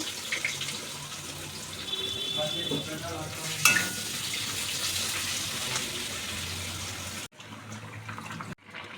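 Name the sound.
onions frying in oil in a wok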